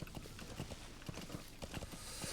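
A horse's hooves clip-clop in a steady, quick rhythm in Metal Gear Solid V: The Phantom Pain, close and clear over a soft ambient game background.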